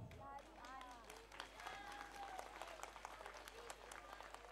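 Thin, scattered clapping from a village audience after a dance troupe's stage performance, steady but weak throughout, with someone talking over it.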